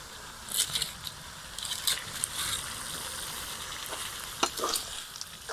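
Duck meat sizzles quietly in a pan, a soft continuous hiss broken by occasional stirring scrapes and brief louder crackles.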